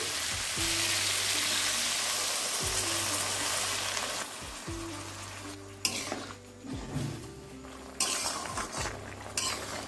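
Water poured into a pan of frying yardlong beans and potatoes brings a loud, steady hiss and sizzle, with the scrape and clatter of a spoon stirring near the end.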